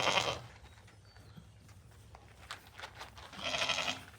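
Sheep on a farm bleat twice, near and fairly loud, one call at the start and another near the end, with quiet rustling and faint background noise between.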